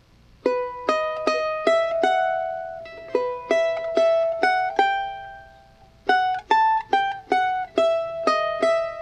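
A charango plucks a bright Bolivian taquirari melody phrase, rhythmic groups of quick picked notes with short ringing pauses between them, played solo and close.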